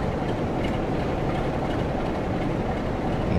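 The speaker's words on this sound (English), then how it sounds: "There's a Class 47 ready to propel its train into platform there." A Class 47 diesel locomotive in Train Sim World at Blackpool North gives a steady, loud rumble of rolling stock and engine, continuous and unbroken with no voices over it.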